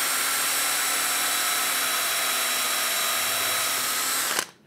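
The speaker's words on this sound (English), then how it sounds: "So if I press this now and I start drilling, I stand a greater chance of getting it square." A power drill bores steadily into a squared piece of wood for about four seconds, a continuous whine, and then stops abruptly.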